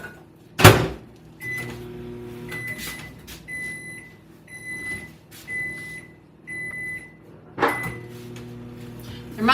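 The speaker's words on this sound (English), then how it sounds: "There must have been a couple of seconds left on that microwave, so it just kind of dinged" Kitchen microwave oven: a loud thump of the door, then a series of short electronic beeps in an even rhythm, then another door clunk, with faint kitchen noises between.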